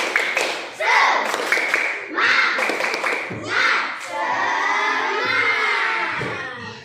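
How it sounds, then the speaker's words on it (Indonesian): Schoolchildren in a classroom do a rhythmic spirit clap in bursts of quick claps, shouting together between them, and then break into loud cheering and chatter. "Tepuk semangat."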